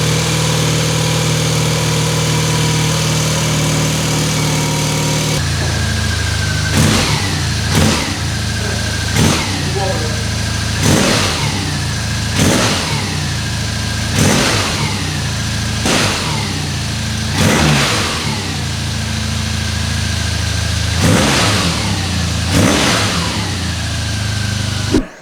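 A BMW R nineT motorcycle fitted with a temporarily zip-tied Akrapovic exhaust starts up and idles, then is blipped in a regular series of sharp throttle revs, each rising briefly and falling back to a steady, rumbling idle, close and loud.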